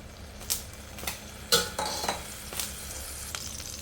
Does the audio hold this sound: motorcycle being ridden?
no